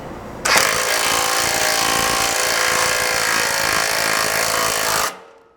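On an FJ Cruiser slider mount install, a power tool runs a 3/8 self-threading bolt into a drilled 5/16 hole in the frame, giving a loud, steady hammering whir close by for about five seconds before stopping abruptly.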